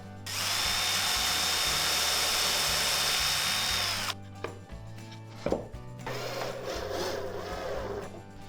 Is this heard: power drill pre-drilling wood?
yes